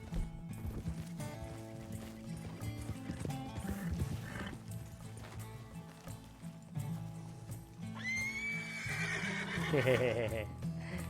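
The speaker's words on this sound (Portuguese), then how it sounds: "A habilidade de empinar o cavalo" A horse rears and lets out a loud, shrill neigh in Red Dead Redemption 2, set over game music and hoofbeats, with a voice talking underneath earlier.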